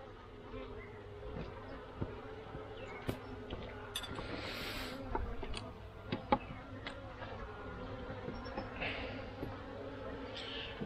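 Honeybees droning steadily inside a moved parent hive, a dense, continuous buzz with occasional louder passes of single bees near the microphone and faint tapping of hive equipment, no talking.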